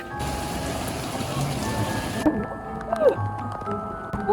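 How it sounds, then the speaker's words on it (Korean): Rain patters on surfaces during a walk on a rainy day, a steady wash of drops that carries on under scattered nearby bumps and squeaks. "오늘은 비가 오는 날인데 걷기를 하러 나왔습니다."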